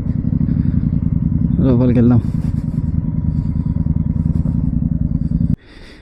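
Motorcycles idle and rumble close by as they are parked at the Bidar Fort entrance, a steady low engine throb with a brief rising rev, while someone speaks over it before the engines cut off.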